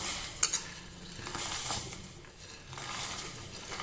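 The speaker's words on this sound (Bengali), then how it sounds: "ক্যারামেল ফুটতে শুরু করেছে, আমি সমস্ত ড্রাই ফ্রুটসগুলো দিয়ে দেব একে একে।" Caramel bubbling in a pan for a Christmas plum cake as dry fruits go in and get stirred: a steady sizzle and hiss with soft scraping and a couple of small clinks near the start, fairly quiet.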